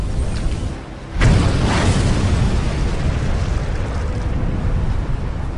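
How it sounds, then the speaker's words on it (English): The battleship Yamato's powder magazine detonates in a sudden heavy blast that swells into a long, loud, rumbling roar and holds at full strength through the end. "Before slipping beneath the surface, her powder magazine detonates."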